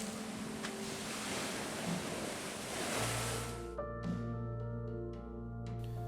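Waves pound a semi-permanent seawall of stacked tyres and bamboo at Mangrove Beach, Jenu, a broad continuous surf roar that shifts midway into a steadier low hum with faint tonal whines over it.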